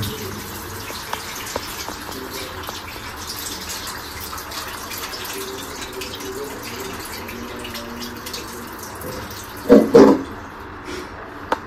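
Raw chicken is washed by hand under running water, a steady close gush of water with rubbing and splashing, rising to a brief louder splash near the end.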